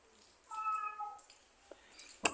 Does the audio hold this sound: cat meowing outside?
yes